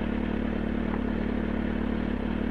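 A motorcycle engine idles steadily with a low, even hum and light mechanical clatter, close and constant throughout with no clear start or rev.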